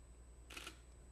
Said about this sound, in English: each time I click the shutter, the mirror goes up, the shutter exposes the sensor, the shutter comes down